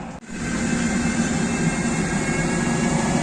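A train runs through Venezia Mestre station without stopping, giving a loud, sustained rumble and hiss that builds quickly after a brief dip and then holds steady and close.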